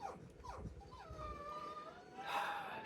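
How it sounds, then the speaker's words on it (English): A pet dog whimpers and cries somewhere in the background, its thin, rising whines and yips coming in short wavering bursts, faint and distant indoors. "if you guys hear crying in the background, that's my mom's dog"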